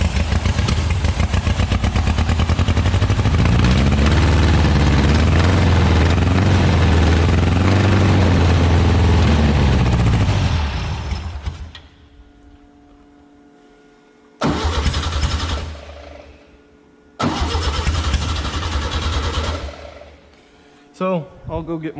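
An old Volkswagen Beetle kit car engine, unused for decades, runs roughly and loudly for about ten seconds before dying; after a pause it cranks and sputters twice more in short bursts, close by.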